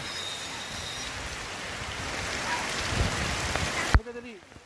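Rain falling steadily on a roof, a dense hissing patter that holds level and slightly builds before a sharp knock cuts it off near the end.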